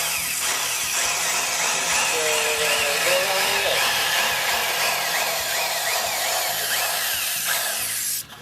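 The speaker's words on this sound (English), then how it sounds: "I just tilt the drill" A power drill, tilted to bevel the edge of a surfboard fin box, whines steadily while grinding into cured polyester resin, its pitch wavering slightly, close and continuous before stopping abruptly at the end.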